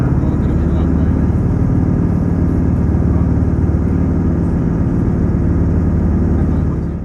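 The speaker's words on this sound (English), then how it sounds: "You can certainly hear the train's underfloor V8 engines." A diesel suburban train on Melbourne's Stony Point line runs with its underfloor V8 engines producing a loud continuous low rumble and throb close by. It goes on throughout with no words.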